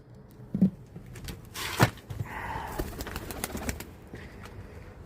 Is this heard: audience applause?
no